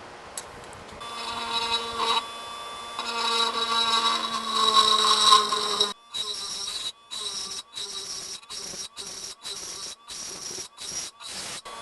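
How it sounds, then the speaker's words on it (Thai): A high, whining drill motor runs steadily, then stutters in short repeated bursts with brief pauses between them, close and fairly loud. "เพื่อนๆเจาะเข้าไปแล้วนะครับเนี่ยทะลุแล้วนะครับ"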